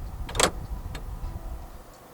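The power-folding side mirrors of a 2023 Honda Accord 1.5 TC-P, a short motor whir and click near the start, followed by faint cabin noise and a few light ticks.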